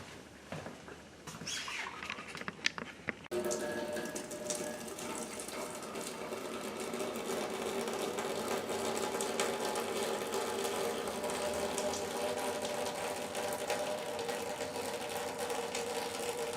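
Homebrew liquid for a toasted coconut milkshake NEIPA heating toward a boil: a dense, steady roar of bubbling and rushing water that swells after a short quieter start and keeps going without talk.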